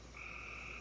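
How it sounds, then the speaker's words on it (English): A frog near a mountain lodge in Little Switzerland, North Carolina gives a single short, tonal, turkey-like croak, clear and fairly close, lasting under a second. "There's a frog out here that literally sounds like a turkey."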